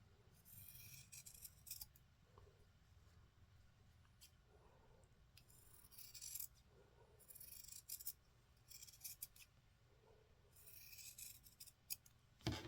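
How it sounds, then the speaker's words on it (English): Dressmaker shears trimming excess fabric along a seam of a small 8-inch doll dress bodice, with repeated crisp snipping bursts in short runs, close and quiet, no talking. "I'm going to take my dressmaker shears and I'm going to trim off the excess fabric along the edge"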